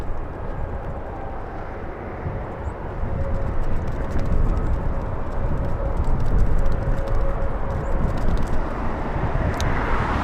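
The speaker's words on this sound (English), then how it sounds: "Big 777 All Nippon coming in." An All Nippon Airways Boeing 777 arriving from Tokyo Narita and landing at LAX, its jet roar building steadily and staying loud and broad as it passes close by, with no talking over it.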